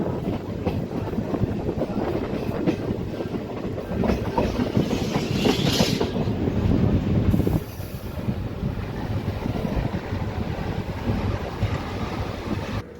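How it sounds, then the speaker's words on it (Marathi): The Purna–Parli passenger train in India arrives at Mirkhel station. A moderate, continuous rumble of the rail carriage is heard along with wind buffeting the microphone, and the level drops slightly about midway as the train slows. "आपली पूर्णा परळी पॅसेंजर पोहोचली आहे हिच्या पहिल्या स्टॉपवर मिरखेल रेल्वे स्टेशनवर"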